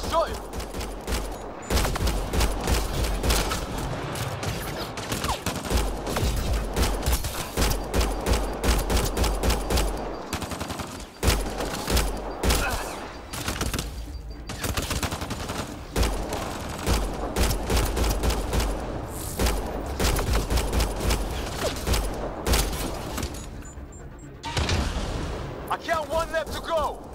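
Gunfire from Mass Effect: Andromeda rings out in dense, loud bursts of automatic fire and single shots that continue through most of the stretch, mixed with shouting voices and battle noise.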